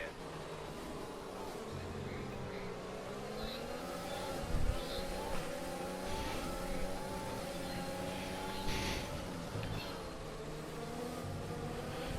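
Race cars in a wet Spanish Grand Prix racing video game: a pack of engines whining and buzzing together, pitches rising and falling as cars shift and jostle, with a couple of brief bumps, steady and moderately loud.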